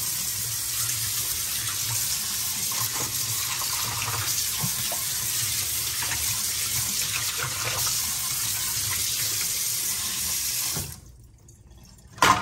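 Steady rush of tap water pouring into a sink as a Jura ENA 4 coffee machine part is rinsed, continuous and close for about ten seconds before cutting off abruptly, followed by a brief knock.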